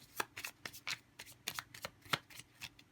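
Tarot cards being shuffled by hand, a quick series of crisp riffling flutters and soft slaps in an irregular rhythm, close and fairly quiet with no talking.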